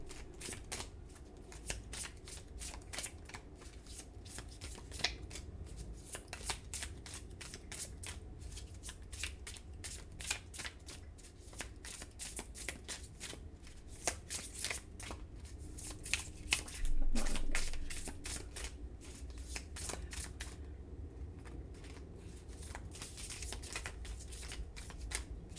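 Tarot cards are shuffled by hand up close, a continuous run of quick crisp riffling snaps and slides with a brief louder flurry near the end.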